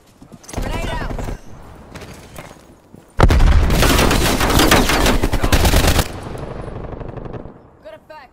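In Call of Duty Black Ops Cold War, rapid automatic gunfire rattles in loud bursts, and a heavy grenade blast with dense crackling fire follows, all close and under a voice calling out during play.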